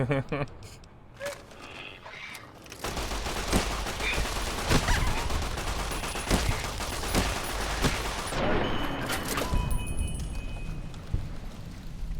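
Gunfire from the video game Fallout: New Vegas, a dense sustained fusillade of shots that starts after a quiet opening and runs loud with sharp cracks, while a person speaks over it.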